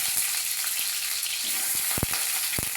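Boiled eggs frying in oil in a wok make a continuous close sizzle, broken near the end by a few sharp knocks as they are stirred.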